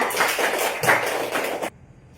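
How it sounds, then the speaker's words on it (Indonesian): A classroom of students claps for each other in a dense patter of applause that cuts off abruptly before the end, leaving near silence. "tepuk tangan dulu untuk semua"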